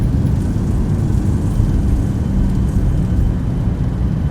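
A Boeing 737-800 in the X-Plane 11 flight simulator roars with thrust reversers deployed on landing, a loud, dense, low engine rumble held steady throughout.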